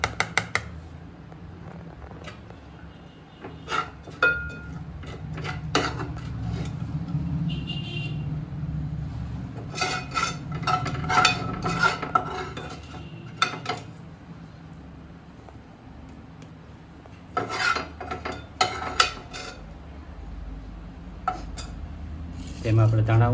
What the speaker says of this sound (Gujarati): હવે આપણે આમાં મસાલો ભેળવી દઈશું.